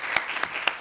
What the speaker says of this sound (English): A warm thank you and a warm applause to Ibu Mari.